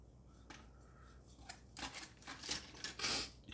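A knife slicing through hot air-fried doner kebab meat, a few soft scraping cuts that build into louder, crisper strokes near the end, close and alone with no talk.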